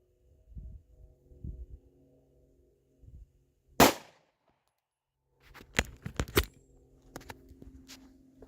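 A single sharp gunshot from a Smith & Wesson SD9 VE pistol with a 4-inch barrel at an outdoor range, a loud crack followed by faint clicks and thumps, with no talking.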